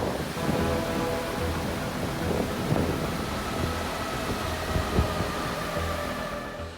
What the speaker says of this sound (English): it's like windy and fucking pouring